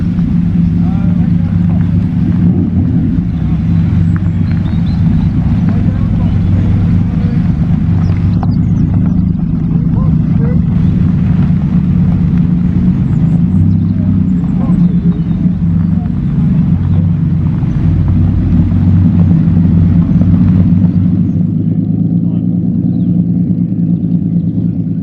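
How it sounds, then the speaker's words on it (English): V8 engines burbling among classic cars such as an Austin Healey and a TVR Tuscan at a car show and road run, a continuous low, throbbing rumble that holds steady throughout. "I can hear some V8 burbling"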